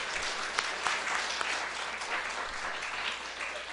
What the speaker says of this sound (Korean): 오세영 교수님께 다시 한번 뜨거운 박수 보내드리겠습니다